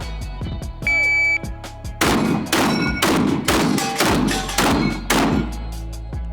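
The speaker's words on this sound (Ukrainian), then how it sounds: "Сім пострілів." Seven rapid shotgun blasts from an upgraded semi-automatic combat shotgun, loud and close in a fast, fairly even rhythm, preceded by a short electronic beep from a shot timer.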